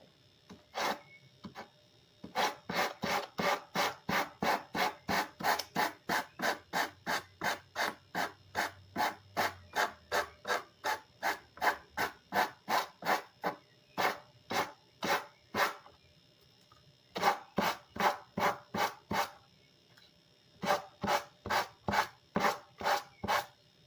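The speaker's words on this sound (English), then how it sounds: "And then I have to sand the other side." Sandpaper rasps back and forth over the other side of a handmade lampshade in a long run of quick, even, close strokes, broken by a few short pauses.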